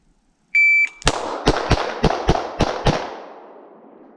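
Pistol fired in a close quarters drill after a shooter-ready command: a short electronic timer beep, then about seven sharp, loud shots in a quick, slightly uneven rapid string, ringing out with no talk.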